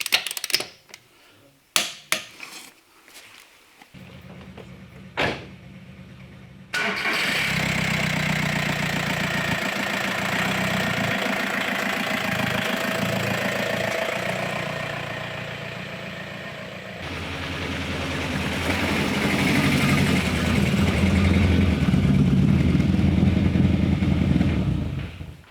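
A VW Caddy 2K van's engine starts after a few clicks and knocks, then settles into a steady idle that runs for about twenty seconds, its note shifting partway through.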